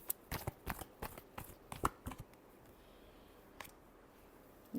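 Tarot cards are shuffled for a final time in a quick burst of soft riffling flicks and taps, close and quiet, which then fade into near silence before one last faint tap.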